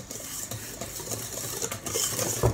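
A whisk or spoon works flour into a whitened sugar and egg batter for chocolate soufflés, giving soft, irregular scraping and tapping against the bowl, close and fairly quiet, without speech.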